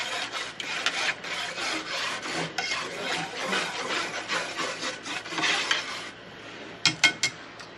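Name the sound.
whisk stirring feather dye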